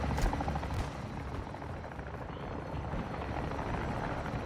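A helicopter in the video game Call of Duty MW2 gives off a steady, moderately loud rotor thrum with a dense rumbling wash throughout.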